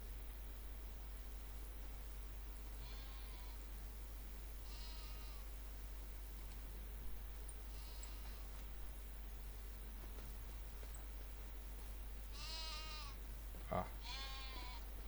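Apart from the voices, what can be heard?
sheep bleating on a farm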